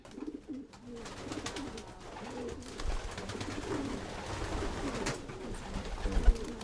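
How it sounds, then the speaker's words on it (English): A racing pigeon coos repeatedly in a loft, soft throaty rolling calls recurring throughout at close range, with no talk over them. "this old girl, she's my best, probably our best ever racing pigeon"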